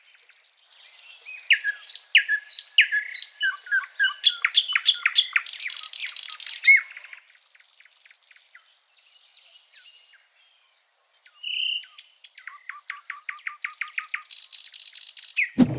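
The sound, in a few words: iridescent blue birds calling, Kruger National Park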